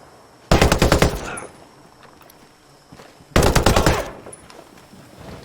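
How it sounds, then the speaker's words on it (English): Automatic gunfire in the Ghost Recon video game comes in two loud, close bursts about a second each, separated by a short quiet gap. "Firing on hostiles."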